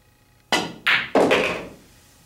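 Pool balls clacking on a table during a position shot with high left-hand English, three sharp knocks in quick succession, the last ringing slightly longer, close and fairly loud with no speech.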